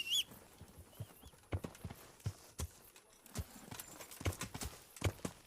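Horse hooves clip-clop in the video game Kingdom Come: Deliverance, an uneven run of close, crisp hoof strikes on hard ground with a brief whinny early on and some faint speech.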